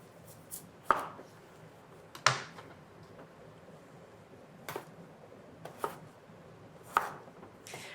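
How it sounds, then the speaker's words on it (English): A knife cuts potatoes into quarter-inch cubes on a board, giving sparse, sharp, close thunks separated by pauses of about a second. "I will cut them into about 1/4 inch pieces so they cook quickly"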